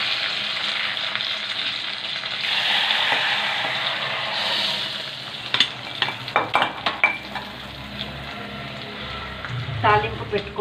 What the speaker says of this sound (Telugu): తాలింపు పెట్టుకోవాలండి